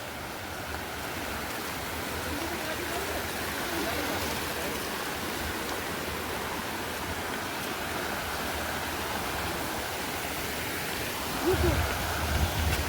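Water rushing out after a valve is opened, a steady broadband hiss of flowing water that holds evenly throughout at moderate loudness, with a brief louder splash or knock near the end.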